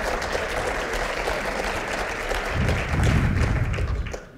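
Festival audience applauding, dense sustained clapping from a crowd that swells slightly before fading out, fairly loud and close.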